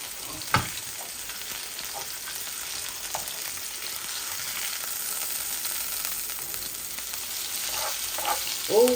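Pangas fish fries in a pan on a gas stove with a steady, soft sizzle and a few scattered pops and crackles, heard alone at a moderate distance.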